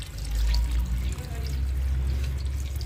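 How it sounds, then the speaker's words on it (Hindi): A glass of water is poured into a pan of masala fish curry, a soft continuous splashing pour with a low rumble, close by and fairly quiet. "और 1 गिलास हमने पानी डालना है।"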